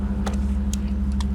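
A motorbike ridden with a young child aboard, its engine giving a steady low drone with a strong hum throughout, and a few brief rattles and clicks on top.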